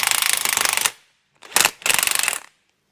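An impact gun hammers at a seized nut on a Ford Fiesta wishbone suspension arm, giving a loud, close, rapid rattling burst, a short pause, then two more quick bursts.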